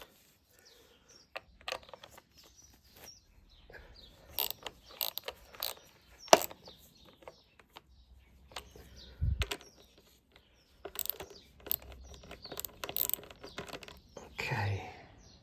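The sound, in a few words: ratchet tightening BMW K1300S cooling fan bolts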